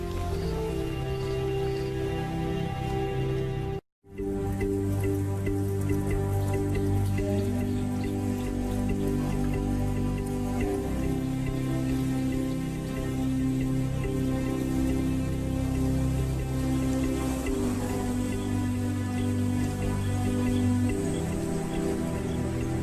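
Steady rain pours down in the lions' habitat, with dense patter and drips on surfaces that continue without a break for the whole stretch, and no voices.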